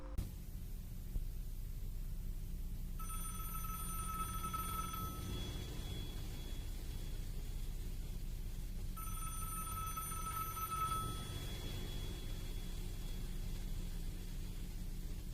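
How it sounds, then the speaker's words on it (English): A telephone rings in a played recording of a phone call, two electronic ring bursts spaced several seconds apart over a low steady hum, faint and thin. "we're gonna be taking a listen to this phone call"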